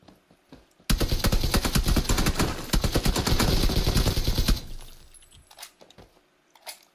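Rapid automatic gunfire in the battle royale game PUBG, a loud, dense burst of shots lasting several seconds, then a few scattered single cracks trailing off.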